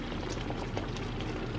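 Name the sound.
strawberry vanilla jam bubbling on the stove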